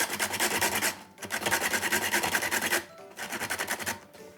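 Lemon peel is scraped across a grater into zest with steady, rhythmic rasping strokes close by, in three bursts separated by short pauses. There is no speech.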